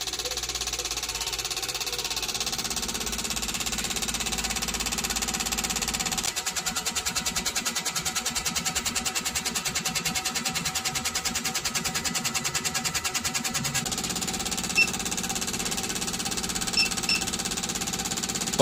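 Toyota fuel injectors cycling on a cleaning and balancing machine at 2,000 RPM give a steady mechanical hum, then a rapid, even ticking pulse joins midway and runs for several seconds before easing back to the hum, with no talking.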